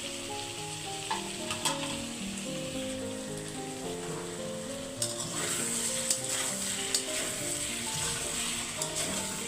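Curry being sautéed in a pan, a steady sizzle with scraping stirs and occasional clinks of the spoon against the pan, close by with no talking.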